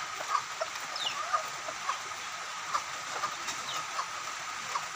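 Chickens, including chicks and a grown hen, clucking softly at a distance in a rainy yard, with short, sparse calls spread over a steady background hiss.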